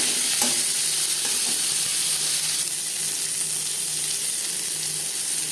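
Bitter gourd sizzling loudly in hot oil in a wok while being stirred, a dense continuous fry with scraping strokes near the start.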